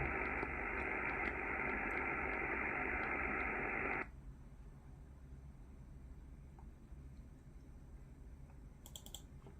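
A steady hiss of 50 MHz radio static during the Perseid meteor shower, with a faint amateur station signal buried in it; a denser band of noise fills the first four seconds, then thinner static continues alone.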